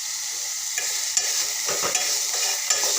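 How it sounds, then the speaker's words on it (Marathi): Amaranth greens sautéing in a pan with a steady loud sizzle, broken by several scraping stirs of a spatula across the pan. "असं भाजीला अधूनमधून छान मस्त असं परतत राहायचं कारण आपली भाजी करपली जात नाही"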